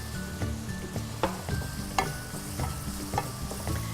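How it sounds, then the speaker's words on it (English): Onions and garlic for butter garlic rice, seasoned with salt and pepper, fry in a pan while being stirred: a constant close sizzle broken by regular scraping strokes of a utensil, with no talking. "Now give this all a good stir. You need to cook this for just a minute"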